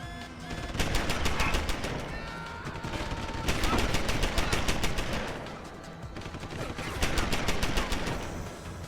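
An automated turret in Deus Ex: Human Revolution fires several separate bursts of rapid gunfire. The bursts are moderately quiet and separated by short pauses, with game background noise between them.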